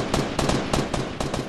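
Gunfire in the Fortnite video game, a rapid run of about six sharp, loud cracks at a fairly regular rhythm over little more than a second.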